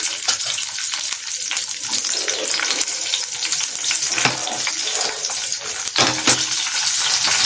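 Green chilies frying in hot oil make a loud, continuous sizzle with scattered pops and occasional stirring clicks close by, with no speech over it.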